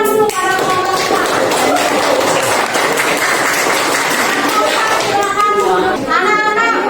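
A classroom of children claps for group 4's presentation, a steady, dense round of applause from nearby, with children's voices mixed in and speech rising briefly near the end.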